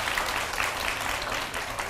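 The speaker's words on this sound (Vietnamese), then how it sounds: "Bây giờ cho một tràng pháo tay nữa để cho cô dâu bớt rung rồi" Audience applause at a lighthearted wedding-couple game show in Vietnam, a steady dense wash of clapping for about two seconds with faint voices mixed underneath.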